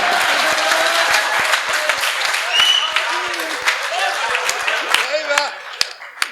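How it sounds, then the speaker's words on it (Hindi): Audience applause and clapping at a live Hindi stand-up comedy show, a dense, steady burst of many hands from a crowd that thins toward the end, with a few voices and whistle-like tones over it. "तालियां कम है आपकी।"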